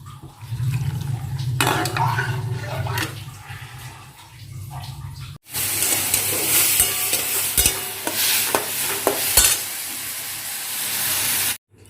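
Dried red chillies and bay leaves are dropped into hot oil for tempering dal, starting with a quieter stretch of stirring and bursting into loud, continuous sizzling and spitting with scattered clacks of a spoon.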